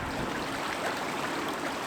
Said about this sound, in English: I heard the sound of rushing water